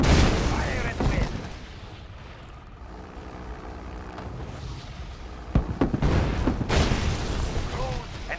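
Weapons fire from units in a Red Alert-style real-time strategy game, with repeated booms and mechanical bursts running steadily beneath a voice giving short unit acknowledgements.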